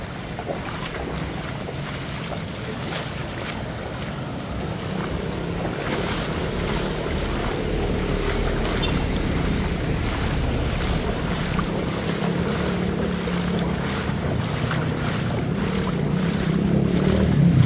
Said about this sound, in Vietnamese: Các bạn thấy là nước chảy, còn chảy rất là mạnh đây.